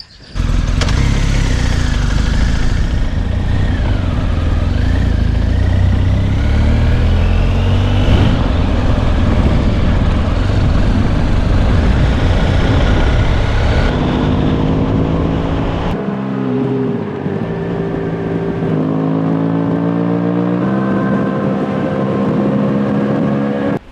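An imported BMW motorcycle rides along a road in Morocco, its engine droning loudly with rising and falling revs and gear changes, plus heavy wind rush throughout, no talking.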